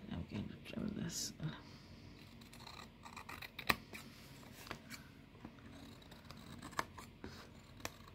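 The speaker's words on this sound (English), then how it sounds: "This is a huge scissors that I recently bought, and it's so sharp" Large sharp scissors trim a handmade paper envelope cover, giving a series of crisp, separate snips close to the microphone, faint and irregularly spaced amid soft handling noises.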